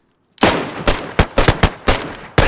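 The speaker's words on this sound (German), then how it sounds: "Alle Arme wütend in die Luft ballern!" Guns blasted into the air in the DayZ survival game: a burst of seven sharp, loud shots in an irregular rhythm, coming after a short silence, with no voices.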